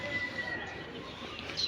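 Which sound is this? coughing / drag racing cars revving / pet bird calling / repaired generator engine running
pet bird calling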